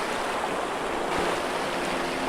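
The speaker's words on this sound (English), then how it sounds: "The only thing I hear is water." Steady rushing water of a river near Sedona, Arizona, flowing continuously, a dense even wash of noise with no voices or breaks.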